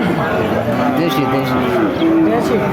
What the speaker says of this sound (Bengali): 6 দাঁতের একটা গাভী চৌগাছার গরুরহাটে দেখতে পাচ্ছেন